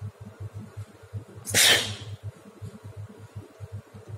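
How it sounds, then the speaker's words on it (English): One loud, abrupt sneeze bursts out in a home kitchen, standing alone over a faint, steady rhythmic background hum. "I'm going to sneeze."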